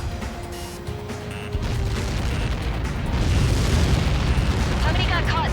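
A large missile blast in the Ace Combat 7 flight game swells into a loud, rumbling roar that builds and sustains, following quieter radio-like chatter and tones at the start.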